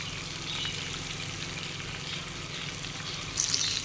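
Kingfish pieces frying in a pan after being turned, giving a steady, fairly quiet sizzle and bubbling heard close up with no talk.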